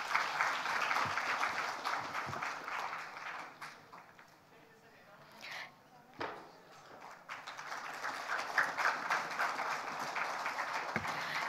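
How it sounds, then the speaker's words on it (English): Audience applause fills an award gala hall, a steady broadband wash of clapping that dips briefly in the middle before swelling again and continuing to the end. "Let's welcome him with a huge round of applause."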